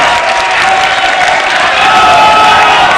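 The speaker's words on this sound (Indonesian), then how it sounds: "Tepuk tangan untuk para pendukung yang bersemangat malam hari ini." Loud, dense applause from a crowd at an evening gubernatorial election debate, sustained clapping with light cheering throughout, filling the whole stretch.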